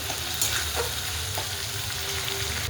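Tomato and curry leaves frying in hot oil for stuffed okra, a dense, even sizzle close by with faint stirring clicks, no voices.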